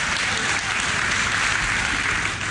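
Packed crowd at a wrestling bout in Pickett's Lock Centre, Edmonton, applauding steadily and loudly, a dense continuous clatter of clapping with faint voices mixed in throughout.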